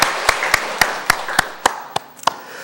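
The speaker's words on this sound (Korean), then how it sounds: "다시 한번 커다란 박수로 환영해 주시기를 바랍니다." Scattered hand claps from a church congregation, roughly nine sharp separate claps spaced unevenly over a few seconds against a quiet room, rather than a full sustained round.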